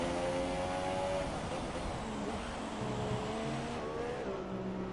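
Race car engine on the Singapore GP street circuit in a racing video game, a continuous high-pitched whine with shifting revs and gear changes, moderately loud and steady throughout.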